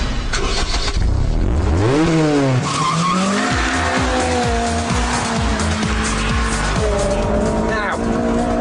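A Mugen Honda Civic Type R driven hard on a race track: loud, sustained high-revving VTEC engine note rising through gears with sharp downshift blips and steady acceleration, close and continuous without pause.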